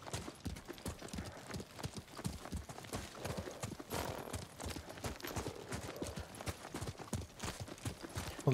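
Horses trot in a video game (Ghost of Tsushima) with a rapid, steady clip-clop of hooves, several animals together, with an occasional whinny mixed in; no talking.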